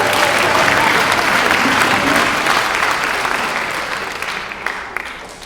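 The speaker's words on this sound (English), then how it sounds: "Let's give him a applause" Loud, dense applause from a crowd at a Beatles tribute concert rolls on steadily, easing off slightly and thinning near the end.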